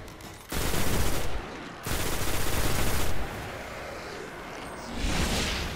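Gunfire in the Destiny Crota raid: two loud, dense sustained bursts of rapid shots, then a quieter stretch of continuing fire that swells again near the end, with no talking.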